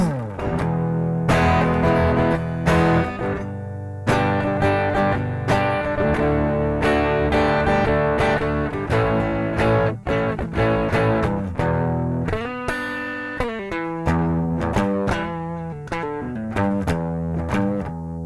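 Electric guitar through a Keeley Aria drive pedal in low gain mode, playing loud, mid-focused chords and riffs with sustained overdriven notes and steady strumming throughout, alone with no talk.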